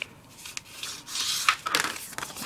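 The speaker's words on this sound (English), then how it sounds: "let's go ahead and fold it right now." Scored card stock being folded for a pop-up frame card gives soft papery rubbing and creasing swipes, a few quick scrapes and taps close by, with no talk.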